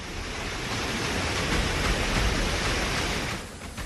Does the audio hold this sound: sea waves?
yes